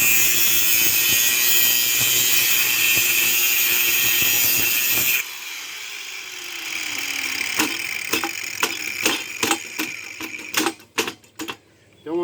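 A metal part of a powerlift chair being cut off with a power tool: a loud, continuous grinding whine for about five seconds stops abruptly, followed by a quieter hum and a series of sharp clanks and knocks.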